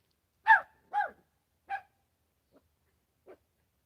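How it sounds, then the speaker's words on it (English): Distant dog barking: three clear barks in an uneven rhythm, then two much fainter ones, across an otherwise quiet outdoor stillness. "there is a dog barking way over there"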